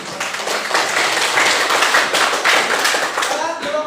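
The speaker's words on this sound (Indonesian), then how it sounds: "berikan aplaus" An audience at a school presentation breaks into sustained applause, dense clapping that stays loud and steady throughout, with a few brief shouts or voices mixed in.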